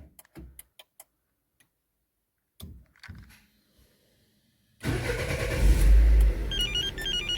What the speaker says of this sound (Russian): Все, машина успешно завелась.